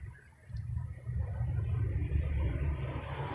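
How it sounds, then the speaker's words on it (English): Traffic passing on a nearby road, a low rumbling vehicle sound that rises quickly and holds steady at moderate loudness, with no talk. "More traffic."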